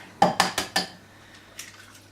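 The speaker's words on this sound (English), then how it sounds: "I'm going to break in the 4 eggs that I've got here" Four sharp, close taps of eggs being cracked on the rim of a bowl in quick succession, followed by a softer knock a moment later, in a quiet kitchen.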